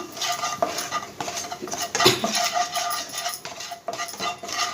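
Phool makhana chaat is stirred with salt and garam masala, a spoon scraping and clinking against the pan in steady repeated strokes, close and fairly loud, with a faint sizzle underneath.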